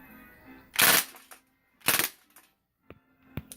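A Crosman DPMS SBR .177 BB gun fires on full auto in two loud, short rapid bursts about a second apart, followed by a few fainter mechanical clicks in a quiet setting.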